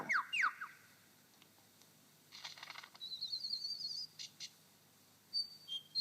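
A lyrebird gives its own call in a forest: sharp descending whistles at the start, then a run of rapid chirping notes and later a few bright calls, fairly close and clear.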